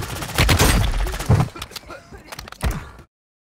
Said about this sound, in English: Ram 9 was considered the best SMG in the Warzone Mobile